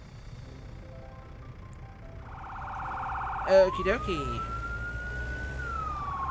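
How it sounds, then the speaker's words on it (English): A fire truck siren starts up in the video game Firefighting Simulator: The Squad, a rising electronic wail joined by a sharp yelping burst, loud over engine hum, with someone speaking briefly just before. "Sirens are on, and it is not a long trip this time."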